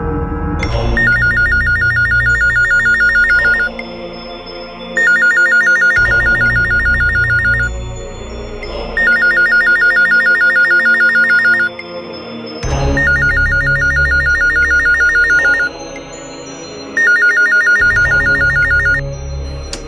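A telephone rings in repeated bursts, five rings separated by short pauses, loud and close, with a steady electronic trill.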